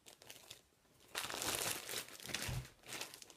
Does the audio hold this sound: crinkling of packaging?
yes